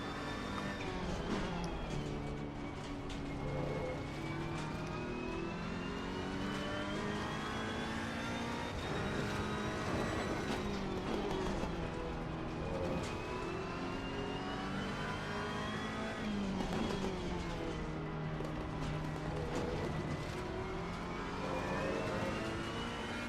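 A race car engine in Assetto Corsa Competizione on PS4 revs up and eases off again and again, its loud, continuous drone climbing and falling through the gears with no pauses.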